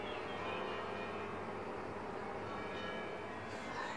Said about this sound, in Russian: Слышно, как у нас красиво звонят колокола?